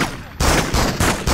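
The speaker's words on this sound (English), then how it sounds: "Help! I just heard gunshots." Several bursts of rapid gunfire, loud and close, in repeated volleys separated by brief pauses, in the video game Spider-Man 2 on PS2.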